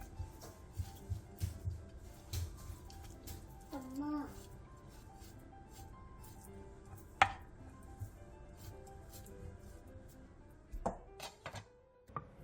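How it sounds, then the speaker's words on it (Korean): A knife scores 2 kg of pork back ribs, producing irregular dull thunks and taps against a cutting board, fairly close and quiet, with a voice speaking now and then. "먼저 등갈비 2kg에 칼집을 넣어주세요."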